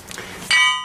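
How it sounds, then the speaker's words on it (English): A cheap hammer strikes sharply against a steel ball joint on a Chevrolet Tahoe/GMC Yukon upper control arm, one close, bright metallic clang ringing briefly after some quiet shuffling. "Just use a hammer, pound it out."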